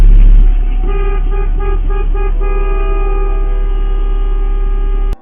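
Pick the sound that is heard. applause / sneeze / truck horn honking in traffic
truck horn honking in traffic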